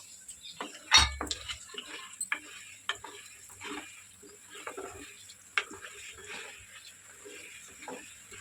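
Mustard seeds, cumin, urad dal and chana dal splutter in hot oil as the tempering for a raw mango pickle. Faint scattered crackles and pops come with one sharp clatter of a pan or utensil, with no one speaking.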